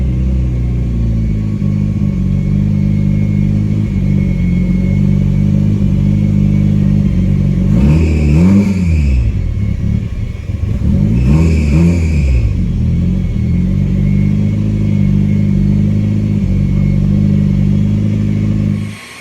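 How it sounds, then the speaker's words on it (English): A 1987 Yugo that sat for 15 years idles with a loud, steady rumble, then revs up twice in quick rising bursts before settling back to a rough, clattery idle. "So we've got ourselves a running car."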